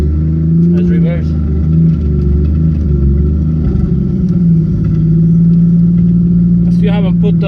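An RX-7 FD fitted with a swapped 1JZ-GTE engine idles and rumbles steadily while reversing, a low continuous drone with slight revving, and a voice speaks over it near the start and end.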